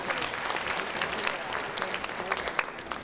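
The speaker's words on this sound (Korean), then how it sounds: "박수 부탁드릴게요." Audience applause at a county citizens' day ceremony in Okcheon, steady dense clapping from a large crowd throughout, loud and continuous with no break.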